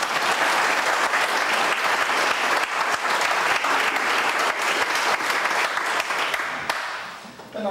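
A large audience at a 1992 Brethren World Assembly gathering gives treasurer Ron Lutz sustained, dense applause lasting nearly eight seconds, loud and even throughout before it tapers off.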